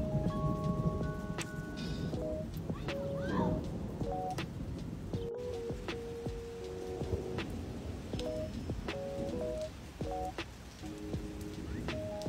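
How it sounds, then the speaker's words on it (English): Thunder rolling under steady rain on a rainy day at home, low rumbles mixed with patter while tonal beeps and faint voices come and go. "The thunder sounds beautiful."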